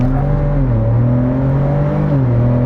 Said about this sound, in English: I'm gonna do another little launch off the line here.